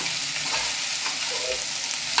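A spice mixture for okra sizzles steadily in hot oil as it is stirred, a close, continuous frying hiss with faint scraping strokes and no voices.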